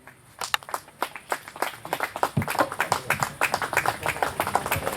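An Italian TV audience welcomes Gianni Morandi onto the stage with applause that starts as sparse, distinct claps and thickens into a fuller, steady ovation, fairly soft overall.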